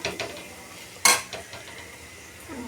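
Eggplant mash with chili powder being stirred in a pan, with a soft low sizzle, a couple of light scrapes and one sharp metallic clink of a spoon against the pan near the middle.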